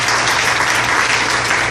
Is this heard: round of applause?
yes